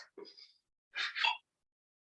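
A single quick sneeze bursts out, fairly close, after a brief breathy sound, then quiet follows.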